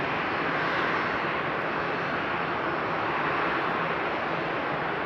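Heavy jet aircraft at a frosty night-time Frankfurt Airport produce a dense, unbroken roar of engine noise, steady and fairly loud throughout with no voices over it.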